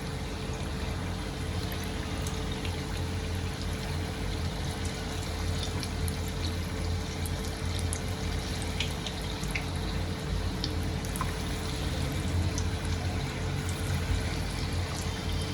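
Chickpeas deep-fry in hot oil over a high gas flame, giving a dense, constant sizzling hiss that stays loud and unbroken throughout.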